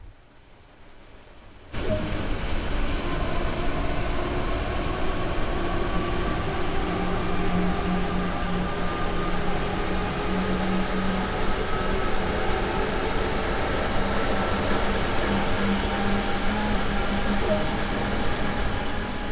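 A passenger train in the Train Sim World 2 Rhein Ruhr Osten game rolls along steadily, a continuous rumble with faint clickety-clack and tonal hum, heard from outside after a quiet opening, with no talk over it.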